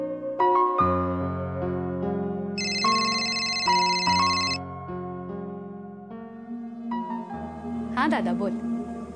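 A telephone plays a melodic electronic ringtone, a stepping tune of bright tones repeating at moderate volume, in a Marathi TV serial scene with a brief clatter near the end.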